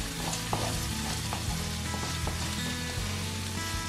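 Garlic and onion frying in a pan for a creamy salmon and prawn tagliatelle sauce, a steady close sizzle with faint crackles and a few soft stirring knocks, no talking.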